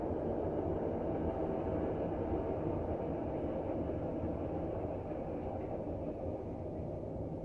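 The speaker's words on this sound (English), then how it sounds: "The train is coming and I can hear it." A train rumbles past at a steady distance, a continuous low roar with rattling texture that stays fairly constant and slowly fades slightly.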